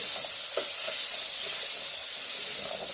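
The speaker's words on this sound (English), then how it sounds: "And I also have some salt pork pieces that we're going to put in here as well. And we're just going to saute it." Steady hissing sizzle of salt pork pieces sautéing in a pot for Bahamian black beans and rice, close and constant, with faint stirring touches.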